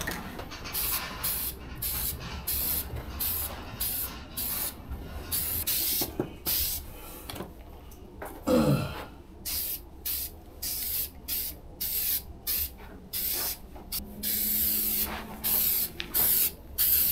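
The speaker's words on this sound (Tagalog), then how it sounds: "Tutuloy na natin yung pag-spray nito." A spray can hisses in repeated short bursts while paint goes onto a roof rack cross bar for a Jeep Cherokee outdoors, the rhythmic spurts close and loud with brief gaps between them.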